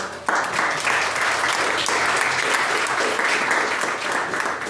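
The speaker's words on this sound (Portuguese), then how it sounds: "Você pode aplaudir ao Senhor?" A church congregation bursts into loud, sustained applause, dense clapping from many hands that starts abruptly and holds steady without pause.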